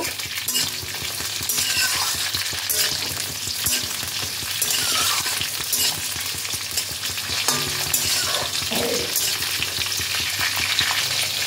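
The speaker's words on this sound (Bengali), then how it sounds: "পটলটা দিয়েও আবারও 2-3 মিনিট তেলের মধ্যে এটাকে নাড়াচাড়া করে নেব।" Cut pointed gourd is stir-fried in hot oil, giving a continuous loud sizzle with repeated scraping and clinking of a spatula against the pan as the pieces are turned.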